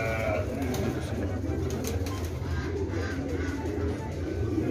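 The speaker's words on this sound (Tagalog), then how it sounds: "Ito mga assorted, mga puting kalapati. Ito mga pugad nila." White pigeons of assorted kinds cooing at their nests on a farm, a steady low murmur of overlapping coos with background noise and some talk throughout.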